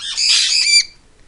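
A pet talking bird lets out a single loud, harsh squawk lasting under a second, close and alone before falling quiet.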